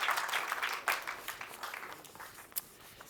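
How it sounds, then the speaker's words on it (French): Award ceremony audience applauding a prize recipient, Maxime Pichon: scattered clapping that swells briefly then thins out and fades, moderately distant, with a sharp isolated clap near the end. "On vous applaudit."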